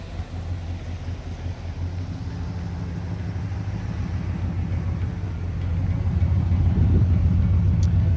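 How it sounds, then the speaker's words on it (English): A patrol car drives slowly past on a street in Mayberry, with a low engine rumble that grows steadily louder toward the end as the vehicle draws close, and no talking. "a patrol car drove by real slow in front of"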